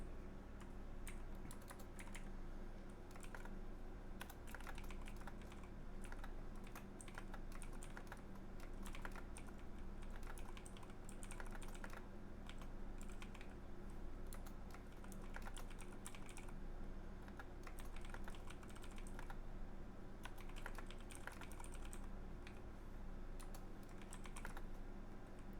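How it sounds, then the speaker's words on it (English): A computer keyboard clicks in an irregular stream of soft keystrokes under the loud, constant hum of air conditioners, faint and continuous throughout with no voices. "I'm surprised you can actually hear my clickety-clack over the air conditioners"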